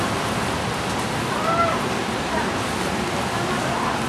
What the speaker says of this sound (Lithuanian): Labai lyja ir ateina dar baisesnis lietus.